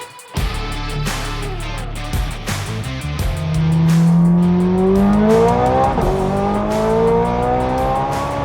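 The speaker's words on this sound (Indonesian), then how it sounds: "Inilah Novitec Rosso Ferrari 430 Scuderia" A Novitec Rosso tuned Ferrari 430 Scuderia rated at 777 hp revs its engine, a loud, close, rising howl that climbs in pitch, dips, and climbs again, with no talking.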